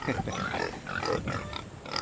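Pig grunting at feeding time on a small backyard farm with a broken pen, repeated short grunts and snorts close by over a busy, noisy background.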